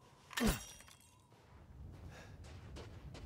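A breakable object smashed with a knife in the video game Resident Evil Village: one sharp shattering crash near the start, followed by quieter game ambience.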